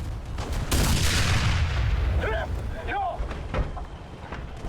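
A loud tank cannon blast in War Thunder from a PvKpfw II, booming and then rolling off into a long rumbling decay, with faint mechanical clanks following.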